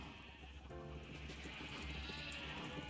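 Faint Minecraft sheep bleats rise over a steady background hum and murmur, with a few animals calling briefly at low volume.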